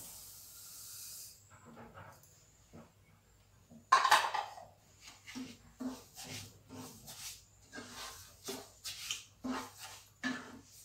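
Milk, grated coconut and sugar are stirred in a pan, a spoon scraping and tapping in uneven strokes after a soft hiss, close and fairly quiet.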